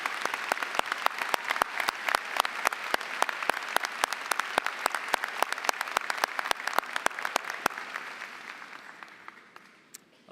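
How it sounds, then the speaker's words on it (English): Audience applause at a 2017 business and engineering graduation ceremony, as a university leader is recognized: dense, steady clapping across a large hall, sharp individual claps standing out, gradually thinning and fading toward the end. "So may we give him a round of applause."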